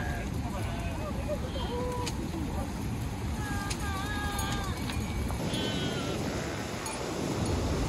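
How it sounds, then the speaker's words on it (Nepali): Sheep bleat several times along a mountain trekking trail from Pokhara to Annapurna Base Camp, wavering calls rising over a steady rushing background of wind or water. "कति भेडा"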